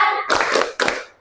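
A class of pupils performs the 'tepuk fokus' clapping routine, two sharp bursts of group hand claps in quick rhythm, following a brief voice and ending abruptly.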